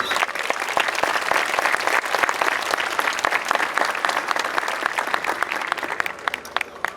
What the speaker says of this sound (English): Another round of applause for Gabrielle.